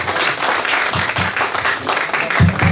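A church congregation claps to welcome their pastor, a dense, steady burst of applause filling the room from start to finish.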